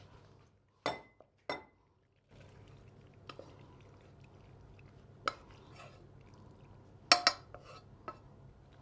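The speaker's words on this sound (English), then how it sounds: "So just mixing that all together, and it's ready to go into the casserole dish." Macaroni and vegetable pasta bake is mixed in a casserole dish, heard as quiet, sparse clinks and knocks of utensil on dish with soft scraping and long quiet gaps between.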